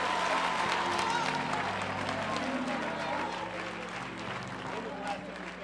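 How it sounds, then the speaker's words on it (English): An audience at a lively preaching event in Augusta claps hands in a dense, sustained wash of applause with crowd noise, easing slightly toward the end. "Clap, clap, clap your hands."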